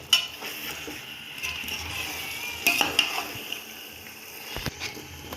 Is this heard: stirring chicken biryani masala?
yes